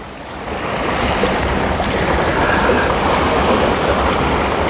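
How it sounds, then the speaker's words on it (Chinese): Sea waves wash onto a beach on Cheung Chau island in Hong Kong, a steady, loud broadband roar of surf with no distinct breaks, heard alone without voices. "听下呢啲海浪的声啊"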